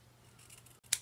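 Scissors make a single quick snip through paper, close and faint, after a near-silent pause.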